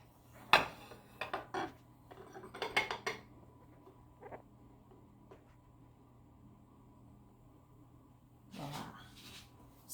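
A plate and a hot ramekin are handled while a chocolate lava cake is flipped over: a few sharp ceramic clinks and knocks near the start, then scattered quieter scrapes and a soft thud near the end.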